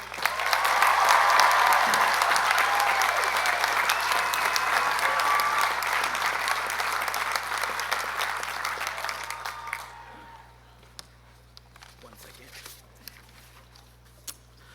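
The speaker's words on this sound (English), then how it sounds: "Please join me in extending an enthusiastic round of applause for the class of 2019 student speaker, Hamza Qureshi." Enthusiastic applause at a university commencement ceremony welcoming the class of 2019 student speaker, a dense crowd clapping loudly for about ten seconds before fading to a few scattered claps and quiet room noise.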